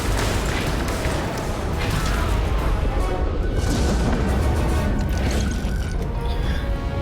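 Space combat against the legendary ship Blattodea in a video game is a dense, continuous barrage of blasts, crashes and mechanical weapon noise, loud and unbroken throughout.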